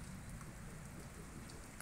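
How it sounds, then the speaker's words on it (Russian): Warm outdoor rain falls steadily and evenly, a dense continuous patter on the ground and surfaces nearby, with no voices over it. "Теплый летний дождь."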